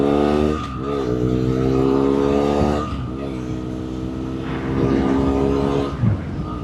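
A BMW F800R motorcycle engine revs up and down in rising and falling sweeps, loud and close, with a brief sharp blip near the end.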